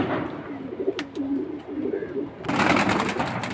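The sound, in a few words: silver pigeons cooing at a pigeon market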